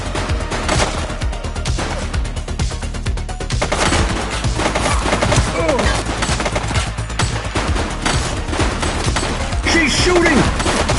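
Dense gunfire rattles in The Precinct video game as a suspect shoots, rapid repeated shots and bursts blended with game effects and music, loud and continuous, with someone talking over it.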